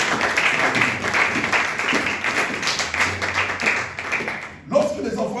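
A church congregation claps and cries out in acclamation, a dense continuous wash of clapping and voices with loud cheering throughout.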